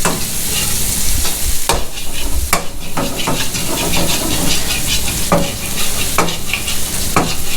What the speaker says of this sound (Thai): ก็ใส่พริกไปเลยค่ะพริกกับกระเทียมนะคะเคี่ยวให้หอมๆเลย